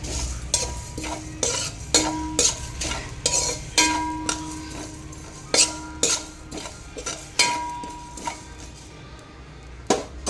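Poppy seeds (gasalu) dry-roasting in a pan while a spoon stirs and scrapes them, giving repeated sharp metallic scrapes and clinks in an irregular rhythm over a faint crackle, close and fairly loud, with no talking.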